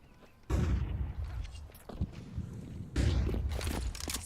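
A barrage of grenade utility in a Counter-Strike tournament match: two heavy, booming blasts land a few seconds apart, each followed by scattered thuds and rumble.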